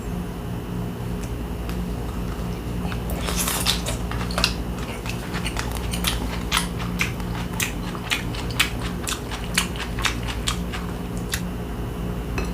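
Grilled pollock roe is bitten and chewed close up, producing a series of sharp, crisp crunches and soft chewing clicks over quiet room hum.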